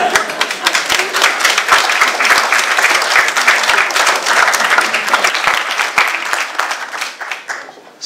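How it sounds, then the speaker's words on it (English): A university lecture audience gives itself a loud round of applause, dense, close clapping sustained for several seconds before thinning out and fading toward the end. "you should feel free to give yourselves a round of applause"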